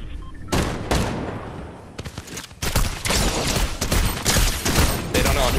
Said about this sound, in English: I can hear them shooting.